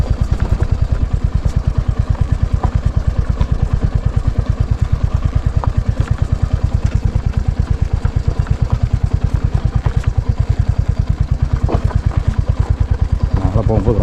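A motorcycle engine runs with a steady rapid mid-pitched thump and clatter, close and loud, on a dangerous mountain road, continuous throughout.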